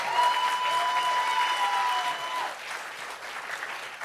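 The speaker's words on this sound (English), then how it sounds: "give them one more big round of applause and encourage them" Congregation applauding at a Friday night Shabbat service, a sustained burst of clapping from a crowd that softens slightly partway through, with a sustained tone ringing over it at first.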